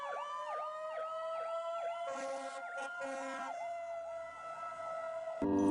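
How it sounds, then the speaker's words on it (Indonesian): A toy fire truck's electronic siren wails in a repeating up-and-down cycle, thin and bright, with a brief flutter of extra tones midway, heard close and alone. "Wah, mainan mobil pemadam kebakaran."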